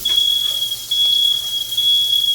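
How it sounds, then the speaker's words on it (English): Shrill kitchen smoke alarms, set off while searing salmon, beep in a high, piercing tone that sounds almost continuously with a brief break, over a quiet room background. "Sorry about those alarms."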